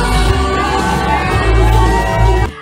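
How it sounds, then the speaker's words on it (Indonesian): Guests at a celebrity wedding shout and cheer together in a loud, dense, continuous burst as a bridal bouquet is caught. "Para tamu teriak, Luna Maya menikah."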